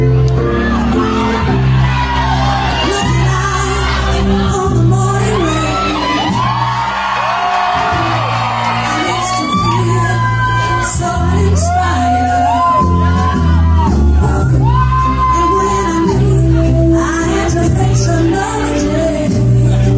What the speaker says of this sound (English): Scream, shout, go crazy.